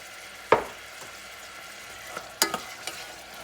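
Onions with a pinch of salt frying in a pan, a soft low sizzle punctuated by a couple of sharp scraping or tapping strokes of a utensil, close by with no talk.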